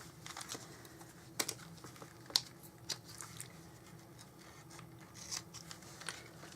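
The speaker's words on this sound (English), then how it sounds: "so I'll just cut a bit of that off" Scissors snip through ribbon in a few soft, quick cuts close by, with faint clicks against a quiet room hum.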